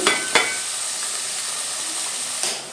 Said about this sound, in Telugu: మనకి ఇలా మిక్స్ చేసుకుంటూ ఫ్రై చేసుకోవాలి